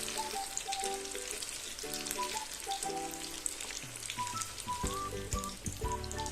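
Breaded chicken and potato lollipops crackle and sizzle steadily in hot frying oil, a dense close bubbling hiss running throughout with no talk.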